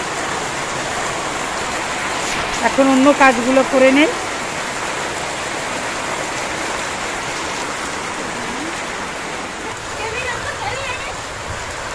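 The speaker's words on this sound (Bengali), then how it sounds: "হঠাৎ করে বৃষ্টি নেমে গেছে" Sudden steady rain falling outdoors, a dense continuous hiss that fills the scene evenly from start to finish, with a person speaking briefly over it.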